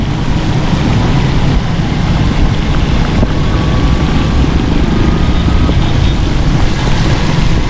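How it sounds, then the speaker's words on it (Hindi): Heavy rain pours over flooded streets in Karachi, a loud, dense, steady wash of noise with wind and rumbling vehicle sounds mixed in, continuous throughout. "यहाँ बारिश थोड़ी सी तेज़ हो रही है"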